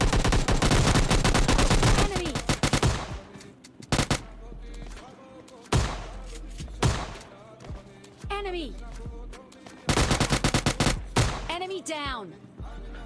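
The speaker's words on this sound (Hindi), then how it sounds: "तो गाइस ये वाली शॉटगन मीन्स की शॉटगन वाली फाइट देखना कितनी इंटेंस होने वाली है यहाँ पे।" Shotgun blasts and rapid gunfire ring out in a PUBG Mobile Lite match, loud dense volleys at first, then scattered single shots and short bursts with game effects in between.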